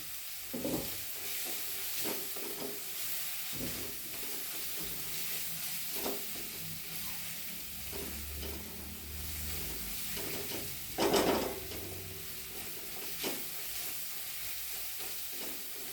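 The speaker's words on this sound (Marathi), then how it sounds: "चांगलं परतून घ्यायचं कारण त्याचा जिऱ्याचा खोबऱ्याचा लसणाचा मस्त वास येतो मिरचीचा वगैरे छानपैकी परतून घ्यायचं" Cumin, coconut, garlic and green chili sauté in a pan, a quiet steady sizzle punctuated by repeated spatula scrapes and knocks, one louder clatter near the end.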